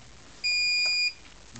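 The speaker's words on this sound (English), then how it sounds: "Countdown. Okay, the beep." A single electronic beep from a solar power system inverter starting up, a clear high-pitched tone lasting under a second, sounds alone against a quiet background.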